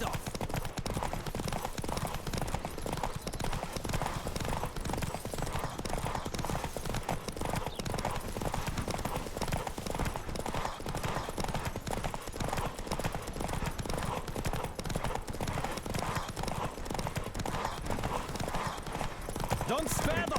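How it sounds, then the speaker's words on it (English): A horse galloping in the video game Witcher 3, with fast, driving hoofbeats that continue steadily throughout, under frequent spoken lines from the characters and an occasional whinny. "Don't spare the horse!"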